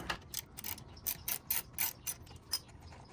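A hand ratchet clicks in short quick bursts while loosening a 10mm bolt on a 2022 Honda Grom, about a dozen crisp close clicks in an uneven rhythm.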